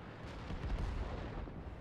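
Tank cannon fire in World of Tanks, a Tiger 1 battle: a continuous low rumble of distant, muffled shots and booms rolling together, fairly faint, with no voices.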